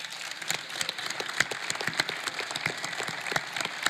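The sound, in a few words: audience applause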